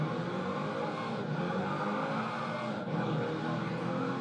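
A continuous Jaguar racing car engine in Gran Turismo roars steadily with slight shifts in pitch, driving at speed.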